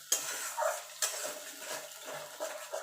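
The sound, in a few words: stirring rohu fish curry with cauliflower and potato in pan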